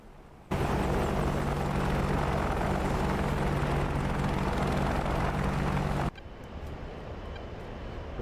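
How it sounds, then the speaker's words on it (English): An AH-64 Apache attack helicopter in the DCS combat flight simulator, a loud steady rotor and turbine roar that holds constant for several seconds before dropping abruptly to a quieter, muffled cockpit hum. "see what this Apache's got."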